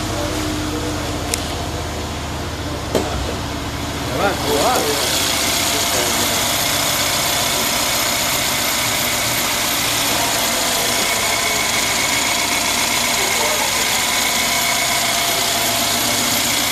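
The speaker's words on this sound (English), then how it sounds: "Let's look at the engine." A 2014 Mercedes-Benz SL550 roadster with 22,000 miles starts and settles into a steady idle. A few faint knocks and clicks come before the engine fires, then a loud, constant hum runs close by to the end.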